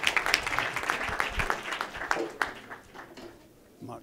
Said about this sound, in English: if you could please give a big round of applause for Lord Jack McConnell